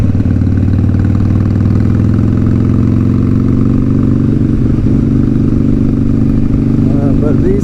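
A Harley-Davidson Sportster 1200 engine drones loud and steady while cruising, a deep continuous rumble with wind rush throughout.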